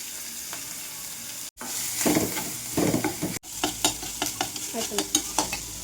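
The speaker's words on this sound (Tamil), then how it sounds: "கருவேப்பிலை ஆட் பண்ணதுக்கப்புறம் வெங்காயம் நல்லா வதங்கணும்" Onions and curry leaves sauté in a pan for a cabbage carrot poriyal, a steady close sizzle with scraping stirs and spatula clatter, after a brief dropout near the start.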